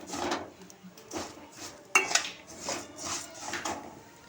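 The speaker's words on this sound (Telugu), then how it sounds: "సేమియా కూడా కొంచెం బ్రౌన్ కలర్ వచ్చేంత వరకు ఫ్రై చేసుకుందాం నెయ్యిలోనే" Vermicelli stirred in ghee in a pan over a medium flame, with a spoon scraping and clinking against the metal in repeated strokes, a soft sizzle underneath, and one sharper clank in the middle.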